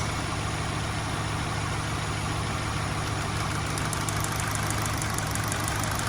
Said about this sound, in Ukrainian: Мотор починає трошки ходити.